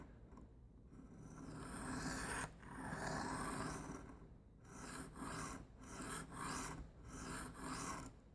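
A knife edge is drawn across a sharpening stone in steady, rasping passes, each a long gritty scrape followed by a brief pause, close and fairly quiet with no voices.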